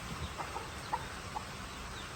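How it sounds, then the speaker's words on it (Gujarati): Young rooster chicks in a coop give a few soft, short clucks and peeps, faint and spaced apart over a low steady background hiss, with no one talking. "બચ્ચા પણ કુકડાના સરસ મોટા થઈ ગયા છે"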